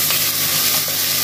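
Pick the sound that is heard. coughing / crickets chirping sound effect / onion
onion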